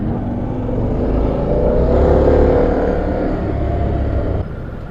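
Harley-Davidson Pan America adventure motorcycle ridden off road at speed, its engine a loud continuous drone that swells as it pulls, then drops slightly near the end, heard from the rider's position with wind rush.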